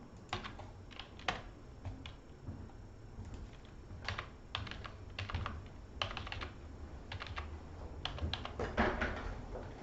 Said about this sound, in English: I'm pressing keys on my keyboard.